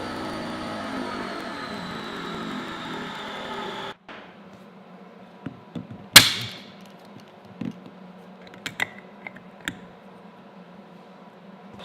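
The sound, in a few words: electric air compressor inflating boat seats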